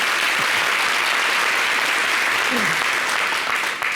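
Sustained, dense applause fills a TV studio during the talk show La Télé d'Ici, with clapping continuing steadily and then tapering slightly at the end.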